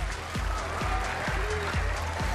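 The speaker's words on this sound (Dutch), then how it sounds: "Mag ik een applaus voor de rest van de kandidaten" Studio audience at a pop talent show quarterfinal applauding the eliminated candidates, a continuous roar of clapping and cheering over a thumping rhythmic music beat.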